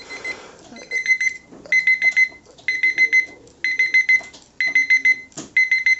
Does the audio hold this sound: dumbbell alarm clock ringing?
yes